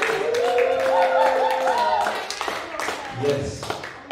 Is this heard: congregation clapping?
yes